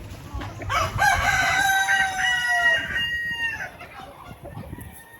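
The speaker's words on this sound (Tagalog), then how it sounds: "So ito naman yung ating Orpington Blue na manok, heritage breed." Blue Orpington heritage-breed rooster crows once nearby, a loud drawn-out cock-a-doodle-doo that tails off, followed by softer clucking and farmyard background.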